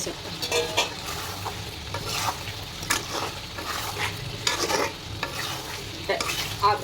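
Potatoes fry in oil in a pan, crackling steadily while a spatula scrapes and stirs in repeated bursts, close and fairly loud with no talking.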